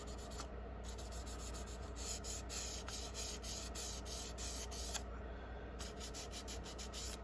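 Steady back-and-forth sanding strokes rasp across the body of a plastic Salvinos JR model kit race car, a 1979 Daytona 500 Cale Yarborough replica, close and continuous with brief pauses between passes.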